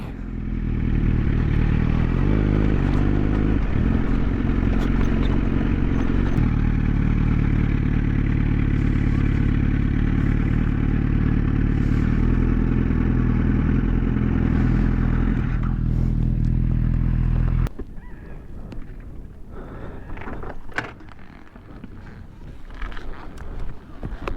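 A Yamaha FZ1N motorcycle engine screams at high revs, reaching 8,000 rpm in third gear and climbing through gears with a sustained, loud whine, then drops away to wind noise and clatter.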